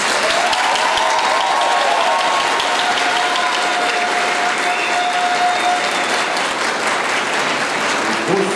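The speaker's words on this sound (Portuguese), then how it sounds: "de todos nós agradecemos em forma de palmas aos nossos pais aqui" A graduation audience at a medical school ceremony claps steadily for the parents, a dense, even wash of applause from a large hall holding at full strength for several seconds.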